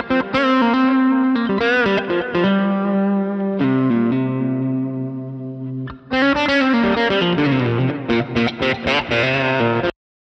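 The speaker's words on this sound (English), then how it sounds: "Different overdrive for the lead, more reverb, much wetter with some delay as well." Electric guitar lead through a Line 6 Helix preset with overdrive, heavy reverb and delay, playing sustained distorted notes and bends, then a quick run of picked phrases, loud and wet with echoing tails, no talk.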